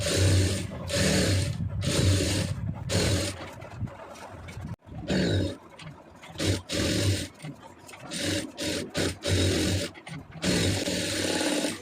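A sewing machine stitches blouse lining, running in bursts of rapid mechanical whirring that stop and restart, with short pauses between runs and a steady motor hum during each burst.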